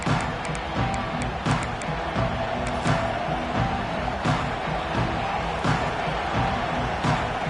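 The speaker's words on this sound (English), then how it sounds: "This crowd ready to make its presence known." A college football video game stadium crowd roars in a steady wash, with sharp thuds and claps popping through at intervals while a commentator talks over it.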